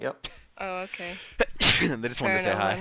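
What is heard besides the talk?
sneeze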